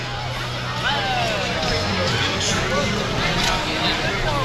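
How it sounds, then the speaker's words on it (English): Large crowd chattering at a South Louisiana boat parade, a steady outdoor babble of many voices with scattered shouts, near and continuous, with a low engine hum underneath. "got a huge crowd behind us here"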